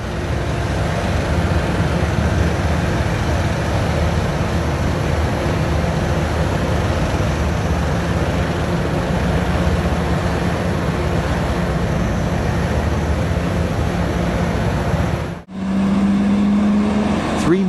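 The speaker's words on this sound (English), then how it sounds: "Three Mercedes trucks loaded with large blender boxes, and there is 1 truck at the very back that also carries parts of the components." Convoy of Mercedes trucks carrying large boxed mining equipment toward a Chilean mine: a loud, steady rumble of heavy engines and road noise, a brief dip near the end, then a low tone.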